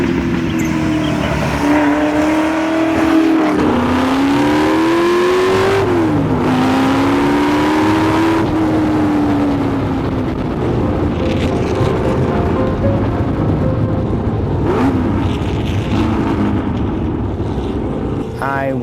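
A Ford GT40 replica sports car engine revs up and down in rising and falling sweeps, loud and close, with a steady rumbling drone between revs.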